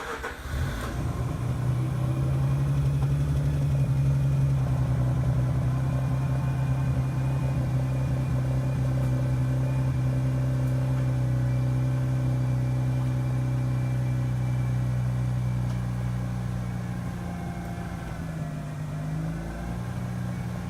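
A Mazda RX-8 rotary engine, treated with Seafoam, cranks briefly and then catches, settling into a loud steady idle that hums on for about twenty seconds before easing slightly lower, close by with no voices.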